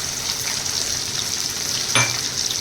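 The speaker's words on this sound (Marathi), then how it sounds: "एक बाजूला मी कढईमध्ये तेल टाकत ठेवलं. त्यामध्ये अद्रक लसूणची पेस्ट" Ginger-garlic paste sizzles loudly in hot oil in a wok, a steady, close hiss of frying with one brief clatter of stirring near the end.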